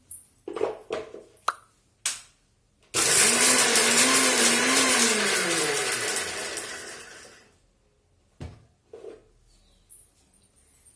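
A mixer grinder whirs loudly for about four seconds in a single pulse while grinding rasam ingredients, pitch dropping as it stops, with scattered clicks and knocks before and after.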